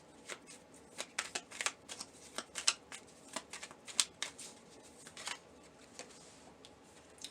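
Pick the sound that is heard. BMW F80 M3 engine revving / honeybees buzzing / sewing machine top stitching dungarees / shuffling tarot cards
shuffling tarot cards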